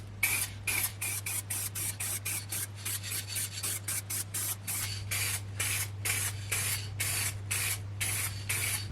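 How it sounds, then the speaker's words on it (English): A spray gun applies clear gloss lacquer over a wooden Union Jack flag in repeated hissing bursts, each pass a short rush of spray, steady and close, with a constant low hum underneath. "it was time to give it a clear coat of gloss lacquer"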